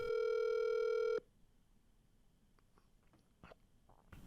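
A single loud electronic telephone ring tone lasting just over a second, cut off abruptly and followed by quiet line noise with a few faint clicks.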